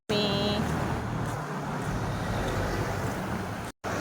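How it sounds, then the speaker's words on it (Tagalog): Cars and other vehicles pass steadily on a busy Saturday morning road during a walk with a dog, a continuous loud roadway rush with no clear gaps. "Ang daming sasakyan. Ang dami na sasakyan."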